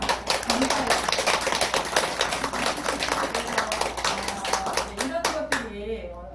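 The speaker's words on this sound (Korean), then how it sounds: "우리 해방보사님 큰 박수 감사해요" A temple gathering claps in thanks for a lay devotee during a Buddhist dharma talk, a close, busy patter of many hands that thins out and stops near the end.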